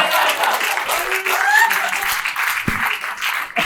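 A comedy club audience claps in a short burst of applause, dense close clapping that swells and then tapers, with a voice speaking briefly over it.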